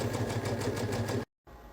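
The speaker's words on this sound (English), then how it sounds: "now we're just using our sewing machine and following along that line" A sewing machine stitching fabric for a beach bag, a quick regular whirring pulse that runs for about a second before stopping abruptly, followed by a short silence and faint room sound.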